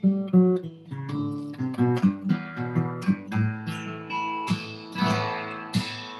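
An OM acoustic guitar is played solo, plucked and strummed notes ringing out with bright attacks and a warm body, a short flowing passage.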